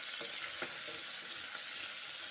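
Ghee heats in a pan for Maggi noodles, sending up a soft, steady sizzle with a few faint crackles.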